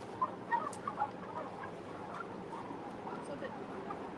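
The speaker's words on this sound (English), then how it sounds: "So the turkeys are drinking out of these here drinkers now." Turkeys gobble and cluck softly inside a barn, a few brief calls near the start over a steady murmur of flock noise and room hum.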